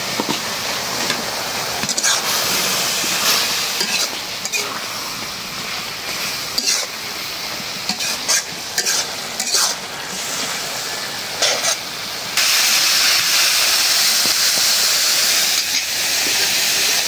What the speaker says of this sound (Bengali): বাঁধাকপি আর আলু দিয়ে ভাজলাম